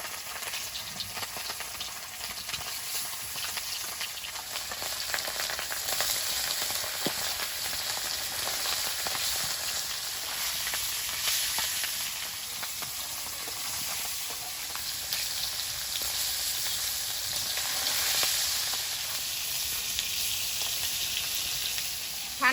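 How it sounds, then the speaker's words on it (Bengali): Fish sizzle steadily in hot oil in a wok, a constant bright crackling and spitting that holds at an even level throughout, with no talking. "কড়াইতে তেল দিয়ে দেব মাছগুলো এক এক করে দিয়ে দেবো"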